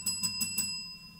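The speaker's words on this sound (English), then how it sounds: "A little bell over there." A small bell at a fight promotion event, struck four quick times in an even rhythm, bright and ringing, fairly close, with a faint sustained tone lingering after the strikes.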